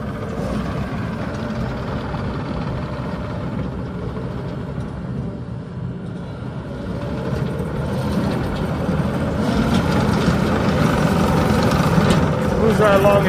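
A 2020 Yanmar C50R-5A mini excavator rolls on its tracks over gravel, diesel engine rumbling steadily and growing louder as it moves, with grinding and clanking from the rollers and a faint voice near the end.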